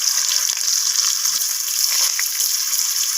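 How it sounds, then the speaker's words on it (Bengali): Potatoes frying with salt in hot oil in a pan, a steady hissing sizzle close by and fairly loud, continuous without distinct strokes. "লবণটা দিয়ে আমি আলুটাকে লালচে করে ভেজে নিচ্ছি।"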